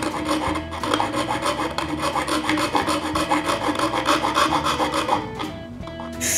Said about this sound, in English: I remove them with rasps and sandpaper.